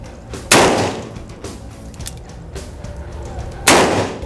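Two loud, close shots from a Smith & Wesson M629 .44 Magnum revolver ring out about three seconds apart, each a sharp crack with a brief decay, separated by quieter handling noises.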